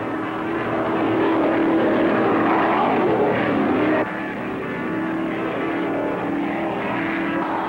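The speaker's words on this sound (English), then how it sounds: "The 62-year-old Nordskog has spent a dozen years racing powerboats" Loud, steady engine roar of offshore powerboats racing at the 1975 Marina del Rey race, a dense continuous drone with a slight shift partway through, no talking.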